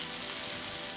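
Ginger and chilli pieces sizzle steadily in hot oil in a pan, a faint, even crackling hiss lasting about a second.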